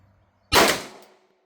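A single sharp report from a pistol with a ported barrel firing Winchester 124 grain +P hollow points: one loud crack with a brief ringing decay, then silence.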